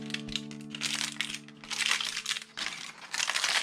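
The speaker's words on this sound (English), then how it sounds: "So it looks like it's wrapped up in some sort of foil." Foil wrapping on a paracord grenade survival kit being handled, giving quiet bursts of crinkling and crackling in irregular clusters with brief pauses, close and soft.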